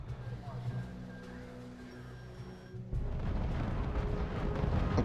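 Bombers striking tanks in the strategy game R.U.S.E., heavy rumbling blasts and booming explosions that swell loud and dense in the second half after a quieter stretch.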